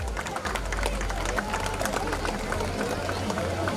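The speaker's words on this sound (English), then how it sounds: "Give a huge round of applause" Audience applause at a school annual day prize distribution, a dense continuous wash of clapping and crowd noise filling the hall, loud and steady with murmuring voices mixed in.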